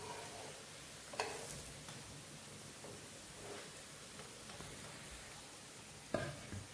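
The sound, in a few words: thalipeeth flatbread sizzling while frying in a pan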